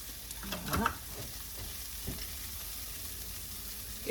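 Seasoned namul being stir-fried in a home pan makes a soft, steady sizzle with a few clattering stirring strokes near the start, fairly quiet and without talk.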